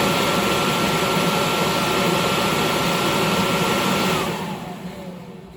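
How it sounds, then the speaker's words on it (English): A Victoria Fans 2 HP steel exhaust blower with a 3-phase 1,740 RPM motor runs with a loud, steady broadband whoosh and hum, then winds down near the end as the tone falls away. "We'll now start it up so you can see and hear it go."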